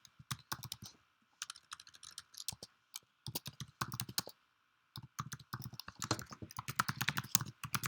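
Details typed on a computer keyboard: bursts of quick, close key clicks with brief pauses between them, the final stretch a dense rapid run of keystrokes, no voices.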